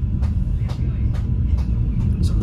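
Kutojaya Selatan passenger train, an additional Kutoarjo–Kiaracondong service, rolls into Gandrung Mangun station with a steady low rumble and faint rhythmic clatter of wheels, heard from inside the carriage.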